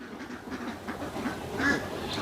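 Ducks quack in scattered bursts inside a commercial duck farm shed, a steady moderate flock chatter with one louder call near the middle.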